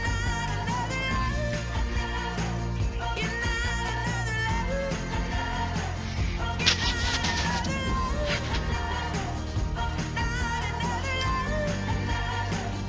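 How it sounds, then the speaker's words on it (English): A cat meows repeatedly with drawn-out, wavering cries over continuous background music, moderately loud and steady throughout. "And here's my beautiful cat, Kermit."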